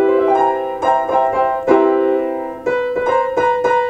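Guitar playing a clashing seventh chord with the wrong seventh, a series of strummed and arpeggiated chords, loud and close, with a sustained chord in the middle and quick repeated strums at the end.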